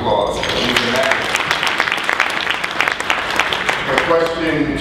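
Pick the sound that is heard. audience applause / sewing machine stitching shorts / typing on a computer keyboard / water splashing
audience applause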